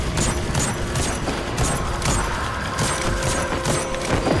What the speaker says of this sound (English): Just have me sit in a loading screen, have gunfire going on